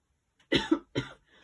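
A woman coughs twice, close and fairly loud, from a tickly throat, short dry bursts with a faint breath after, in an otherwise quiet room.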